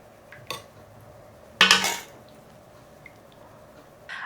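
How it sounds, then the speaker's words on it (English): Utensils clink and scrape against a plate while egg curry topped with fresh coriander is served, with a few short, fairly crisp contacts spaced apart, the loudest cluster in the middle. "I'm going to plate this up and give you guys a closer look"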